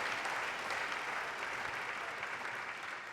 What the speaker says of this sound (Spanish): Pues dale ese aplauso porque viene libertad para ti